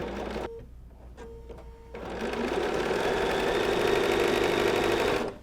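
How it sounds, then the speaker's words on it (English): A home sewing machine chain-pieces pairs of quilt blocks, its motor whirring steadily and close, with a few short bursts at first and then one long continuous run of stitching. "you're going to put them in your machine, and you're going to sew each of the block pairs together"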